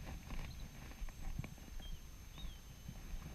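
A horse's hooves clip-clop in a steady trotting rhythm during a riding lesson. The hoofbeats are fairly faint against a constant background hum.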